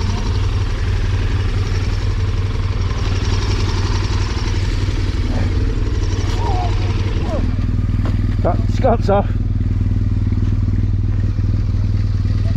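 A motorcycle engine idles steadily and close by on a long-distance road rally, its low rumble continuous throughout while someone speaks briefly over it and some clattering follows.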